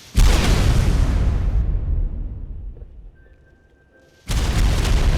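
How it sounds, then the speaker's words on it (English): Loud, booming video-game blasts burst out, then fade to a low rumble and near quiet before another heavy explosion hits at the end. "he fires off massive explosions"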